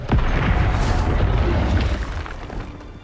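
A Reducto blast spell from Hogwarts Legacy erupts in a loud, booming explosion with a sharp onset, its rumble sustained and then fading over a few seconds, no voices heard.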